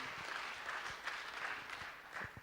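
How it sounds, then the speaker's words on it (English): An audience at an Eastern Africa agroecology conference claps to welcome a speaker, a brief, faint patter of scattered applause from a distance. "Big round of applause"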